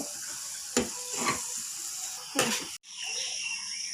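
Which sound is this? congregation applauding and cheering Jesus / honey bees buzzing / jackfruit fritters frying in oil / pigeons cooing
jackfruit fritters frying in oil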